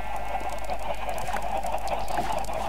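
Chickens in the Minecraft video game cluck in a steady, busy chorus of close, fairly loud bird calls that carry on through the whole stretch without pauses or talking.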